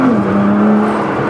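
A Nissan GT-R R35 with an aftermarket mid-pipe pulls away under acceleration, giving a loud, steady droning exhaust tone with a slight pitch drop over a brief moment.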